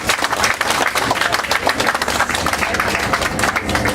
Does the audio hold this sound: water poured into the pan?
no